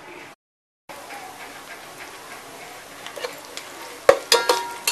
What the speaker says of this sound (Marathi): त्याच्यामध्ये तेल टाकते 2 मोठे चमच, एक मोठा कांदा हे चांगले शिजवून घ्यायचे